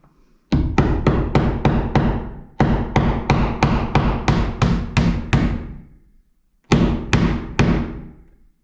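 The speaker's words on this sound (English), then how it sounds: "Nailing it in place." Hammer blows drive nails while a window is being fixed in place during a DIY installation, sounding as three close, loud bursts of rapid, evenly spaced strikes, roughly six per burst, separated by short pauses.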